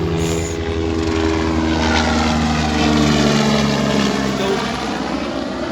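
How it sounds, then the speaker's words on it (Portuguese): A helicopter's rotor thumps and engine drone loudly overhead, swelling and fading as it passes, with a voice speaking under it. "o helicóptero que passou aqui agora"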